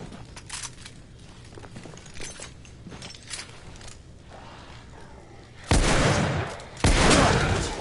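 Revolver gunshots in the video game The Order 1886, with two loud, close blasts near the end standing out over quieter earlier gunfire and game noise.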